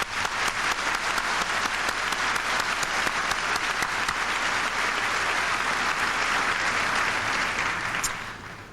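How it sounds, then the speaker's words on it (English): Full, steady applause rolls through the audience at a 1997 high school commencement, dense clapping that continues for several seconds before tapering off at the very end. "I'd like to give you a round of applause"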